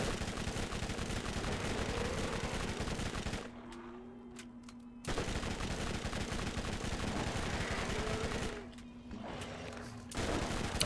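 Sustained automatic gunfire from the first-person shooter Borderlands, loud and continuous bursts with two brief lulls, backed by a steady in-game hum.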